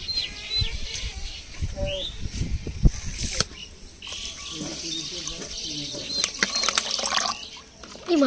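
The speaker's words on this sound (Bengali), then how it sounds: "চিনির সাথে একটু জল দিয়ে দেবো" Water is poured onto sugar in a pan to make syrup for homemade rasgulla, giving a brief, close splash and trickle while birds chirp in the background.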